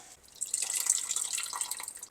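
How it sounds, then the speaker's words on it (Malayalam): Tamarind water pouring steadily into a pot for about two seconds, a close splashing trickle with no voices. "ഇതിലേക്ക് നമ്മൾ എടുത്തു വെച്ചിരിക്കുന്ന പുളി വെള്ളം ഒഴിക്കാം"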